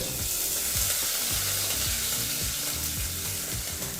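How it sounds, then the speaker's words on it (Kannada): Curry leaves and green chillies fry in oil inside a pressure cooker for wheat khichdi, giving a steady, dense, close sizzle with soft crackles that continue without pause and with no voices. "ಕುಕ್ಕರ್ಗೆ ಹಾಕ್ಕೊಂಡು ಈಗ ಇದನ್ನೆಲ್ಲ ಒಂದು ಮೂವತ್ತು ಸೆಕೆಂಡು ಎಣ್ಣೆಯಲ್ಲಿ ಫ್ರೈ ಮಾಡ್ಕೋಬೇಕಾಗತ್ತೆ"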